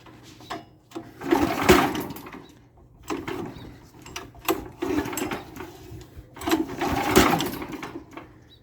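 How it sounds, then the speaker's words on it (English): Someone repeatedly yanks the starter cord on a Predator 420cc go-kart engine that keeps dying, producing three or four loud, close ratcheting pulls in bursts with short gaps between them, and the engine never catches. "I'll pull this string a couple times. See if it starts."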